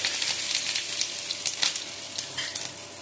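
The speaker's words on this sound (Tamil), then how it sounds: "இப்போ இந்த ஸ்டேஜில் நம்ம வந்து வடவத்தை போட்டலாம்." Vadavam and curry leaves sizzle in hot oil for a tempering, a close, continuous crackling fry with small spattering pops scattered across the few seconds.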